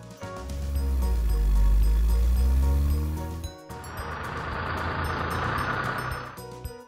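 A car goes by with a smooth engine drone that swells and recedes, then a hissing rush of tire and road noise takes over.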